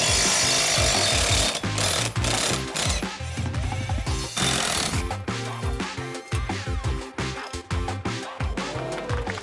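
A Metabo SSW 18 LTX 800 BL cordless impact driver drives into wood with loud, rapid hammering bursts that start and stop repeatedly, mixed with woody creaks and rubbing, no talk.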